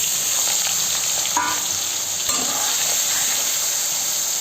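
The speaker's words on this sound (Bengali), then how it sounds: "আমি চিংড়ি মাছগুলোকে খুব হালকা করে ভাজবো" Prawns coated in salt and turmeric fry gently in hot mustard oil, a continuous close sizzle with a couple of faint stirring knocks partway through and no talking.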